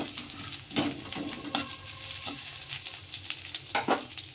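Ginger sizzles steadily in hot oil as a utensil stirs and clinks against the pan now and then.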